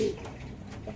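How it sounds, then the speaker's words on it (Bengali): A male pigeon gives a brief low coo, close by and fairly soft, lasting about a second. "তারপরে আর একটা নর পায়রা"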